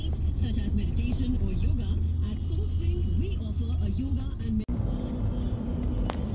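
Inside a hired company car service heading to the office, a steady road rumble and engine drone run under a voice talking throughout.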